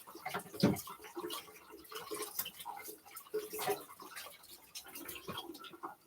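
A wooden spoon is rinsed under running water at a kitchen sink, with soft, close splashing and dripping in uneven bursts, fairly quiet and with no talk.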